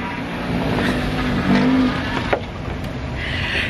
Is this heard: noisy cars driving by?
yes